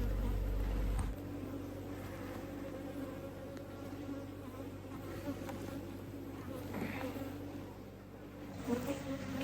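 Honeybees buzz steadily around an open hive during an inspection, a close, continuous drone with a louder burst at the very start and small swells near the end.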